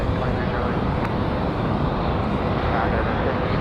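An American Airlines jet, flight 2308, departs for Los Angeles from Raleigh-Durham airport, its engines a loud, steady broadband roar throughout in breezy outdoor conditions, with a voice talking over it.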